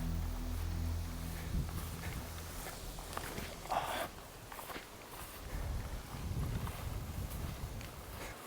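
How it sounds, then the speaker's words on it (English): Wind gusting across an abandoned military town in Germany, a steady broadband roar with microphone buffeting throughout, swelling louder toward the end. "it's so windy."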